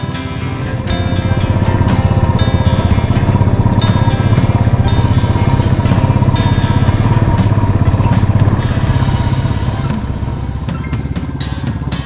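A motorcycle rides through Nagaland in Northeast India, the steady engine drone loud and close throughout, holding an even pitch with slight shifts as the bike cruises along.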